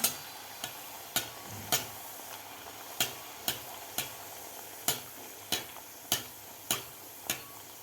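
Sweet fresh-coconut puri frying in hot oil in a large kadhai, a steady soft sizzle under regular sharp ticking taps roughly every half second, close and moderately quiet, with no talking.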